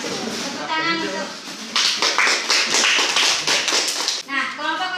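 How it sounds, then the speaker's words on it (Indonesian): Classroom applause after a group presentation, with a burst of clapping from many hands lasting a couple of seconds, while voices speak before and after it. "Tepuk tangan untuk."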